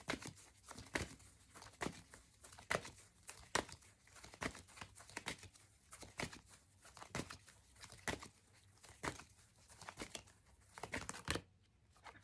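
Tarot cards are shuffled, drawn and laid out in a quiet stream of soft papery flicks, slides and crinkles, faint and close, with no voice over them.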